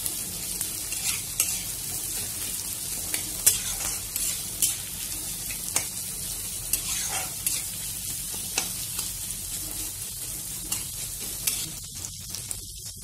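Ingredients roast in a pan for egg kulcha, a steady close sizzle broken by frequent spatula scrapes and light taps against the metal, unaccompanied by talk.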